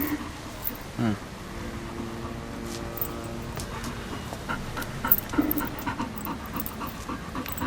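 An old dog pants in quick, rhythmic breaths close by, with a soft whimper, while people talk over it in Hindi.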